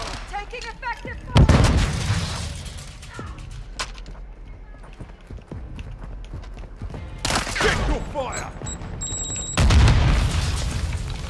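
Gunfire in the video game Call of Duty: Modern Warfare II, with bursts of heavy shots and booming blasts, some loud and close, others more scattered, over a constant bed of battle noise.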